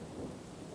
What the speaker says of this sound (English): The rain is going to ruin our beautiful creation.